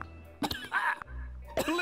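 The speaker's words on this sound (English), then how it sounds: "He has to cough." Video game character coughing after inhaling water, a few harsh, close coughs and throat-clearing bursts in quick succession.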